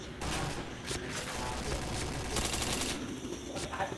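Rapid gunfire from a shooter video game, with dense overlapping bursts and shots running continuously at steady loudness, sharpest near the end, and a faint voice mixed in.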